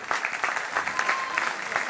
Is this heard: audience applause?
yes